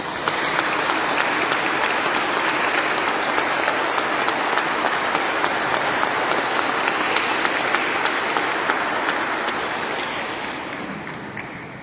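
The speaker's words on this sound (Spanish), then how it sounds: "Un aplauso a los catequistas." A congregation at a Catholic mass for Catechist Day at Santa Rosa de Lima applauds the catechists. The loud, dense clapping fills the room for about ten seconds, then gradually fades.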